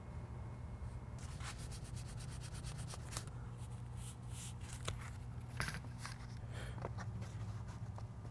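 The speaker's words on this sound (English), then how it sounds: "Some of this stuff is proud, so I need to remove a little bit of foam from the back." Steady scraping and rubbing as foam is sanded off the back of a homemade Fallout 4 Fat Man mini-nuke launcher prop, a continuous close abrasive sound with a few sharper scuffs.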